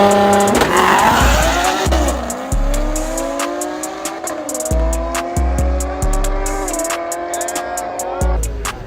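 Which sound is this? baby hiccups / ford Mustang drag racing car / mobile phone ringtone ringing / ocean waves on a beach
ford Mustang drag racing car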